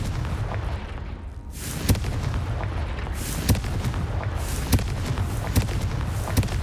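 Spell blasts from a Confringo blasting charm in Hogwarts Legacy, a string of sharp booming impacts landing roughly every second over a dense, rumbling battle backdrop.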